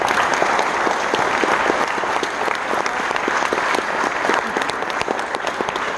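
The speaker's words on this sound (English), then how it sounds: "Let's give them a big round of applause." Audience applause honoring the music parents and chaperones at a school music event, a steady dense wash of many hands clapping at once, sustained at even loudness throughout with no voices over it.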